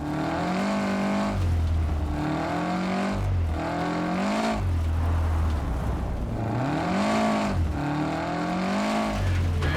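A rally car engine in the video game WRC 10 revs and shifts through gears repeatedly, rising and falling pitch in a loud, continuous drone with no talking.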